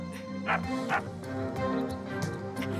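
Cartoon dog barking in a forest scene: two sharp yips close together near the start, then softer whimpering yips over background music, with no speech.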